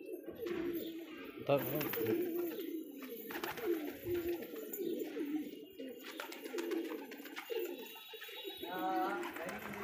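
Several pigeons coo close by in soft, repeated throaty calls, with a person talking intermittently and some handling noises.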